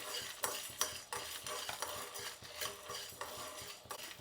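Urad dal, black pepper and dried red chillies roast dry in a pan, stirred with a spoon in a steady rhythm of scraping strokes over a faint crackle.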